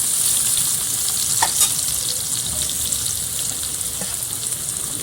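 Onions with garlic sizzle and fry steadily in a pan over a wood-fired stove, a dense continuous crackle with occasional stirring scrapes, close and fairly loud with no voices.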